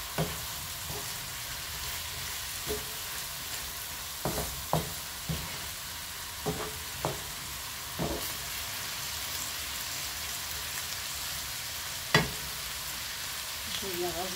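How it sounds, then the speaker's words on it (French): Spiced meat filling for stuffed mesemen stirred in a frying pan, a soft steady sizzle broken by a dozen or so scattered spoon scrapes and knocks, fairly quiet and close. "Je mélange tout ça."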